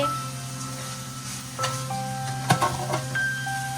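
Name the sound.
chicken frying in a pan for egg chicken chow mein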